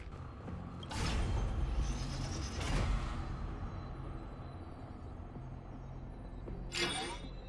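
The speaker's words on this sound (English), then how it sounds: "Another mechanism shut down." A mechanism in the video game Honkai: Star Rail shuts down with a few mechanical clanks and creaks, two sharp bursts early on and another near the end, over a low, faint hum.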